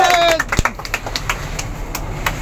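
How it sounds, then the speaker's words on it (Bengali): Scattered claps from an audience at a prize-giving where a 25 kg sack of rice is awarded, a few sharp distinct hits spaced irregularly after a brief burst of sound, sparse rather than sustained. "সবাই একটা করতালি দিয়ে আহ্বান করো।"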